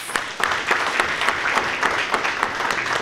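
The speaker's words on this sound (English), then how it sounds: "one more round of applause for all our graduates" Loud, close applause from a crowd at a service dog graduation, a dense steady clatter of clapping hands that carries on without pause.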